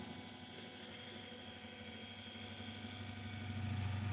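A drill bores out a rivet, a steady, fairly faint high-pitched whine with a low mechanical hum beneath, running continuously without pauses or talk.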